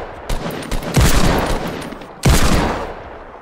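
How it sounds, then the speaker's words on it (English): Video game gunfire in a shooter match: a few sharp shots, then a heavy burst of fire with a long echoing tail, and another loud crack and decaying boom about a second later, close and with no voices. "They freaking sniped me."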